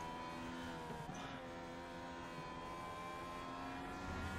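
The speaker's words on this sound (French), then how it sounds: "Et il réaccélère bien mieux que Besson, regardez!" IndyCar race car accelerating at Sebring in a racing video game, a sustained high engine whine with rising harmonic tones, steady and prominent throughout with no audible speech.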